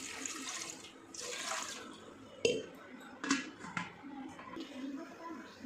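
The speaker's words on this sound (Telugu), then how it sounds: "దాంట్లో కొంచెం వాటర్ వేసుకోవాలి" Water is poured into an idli steamer pot set on a stove, splashing and trickling in uneven bursts with a few metallic clinks of the pot, while a person talks intermittently nearby.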